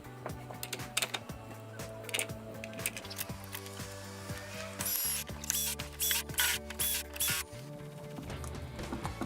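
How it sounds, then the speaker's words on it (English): Screws being driven into the housing of a DeWALT DW357 circular saw during repair, a run of close ratcheting, clicking mechanical turns with brief metallic taps, steady and near with no talking. "Remember which holes use the larger screws, then tighten all of them."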